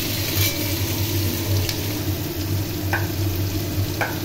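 Young jackfruit pieces, soaked in salt and turmeric water, fry in a pan for a Bengali jackfruit-and-prawn dish, giving a steady, close hiss of sizzling oil broken by a couple of faint clicks.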